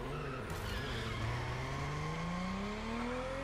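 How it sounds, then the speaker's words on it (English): A car drifting in The Crew Motorfest, tires squealing in long rising whines over a constant engine drone, loud and close. "as far as drifting goes, yeah, like this car, it's easy to drift around"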